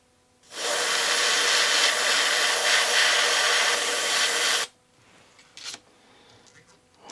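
A hair dryer blows steadily for about four seconds, loud and close, drying paint on handmade wooden fishing lures, then cuts off, leaving faint handling noises.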